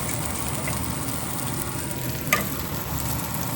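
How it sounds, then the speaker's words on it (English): Garlic and vegetables sauteing in a pan give a steady, even sizzle and frying hiss throughout, close by and moderately quiet, with one brief clink partway through and no voices. "now while the veggies are sauteing, we got to prepare our protein"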